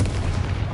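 A Confringo explosive spell cast in Hogwarts Legacy, a short loud blast with a dense low rumble that holds for under a second.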